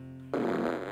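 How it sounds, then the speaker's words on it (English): A short, loud, close fart sound effect from an interactive website artwork bursts in after a low hum and holds for well under a second. "the right hand grabs the left hand and there's a farting sound"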